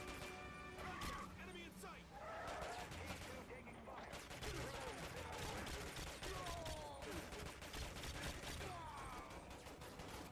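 Rapid gunfire in the video game Quantum of Solace, dense bursts of shots and mechanical clatter running continuously under a busy game mix, with people talking over it.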